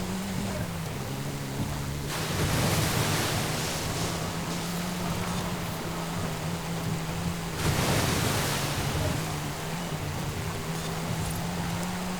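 Car splashing through deep water in Forza Horizon 5 during a seasonal championship race, a steady broad wash of spray with two louder surging bursts, an engine hum running underneath throughout.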